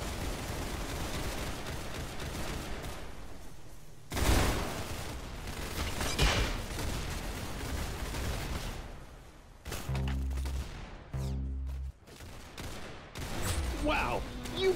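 Video game gunfire in Roblox Arsenal: bursts of rapid shots and sharp repeated blasts punctuate a continuous noisy game soundtrack, loud and close, with a distinct headshot-style hit sound near the end.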